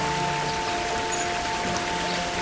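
Steady rain from a nature sound generator, a dense, even hiss of falling drops with no breaks, loud and close, alone with no voices.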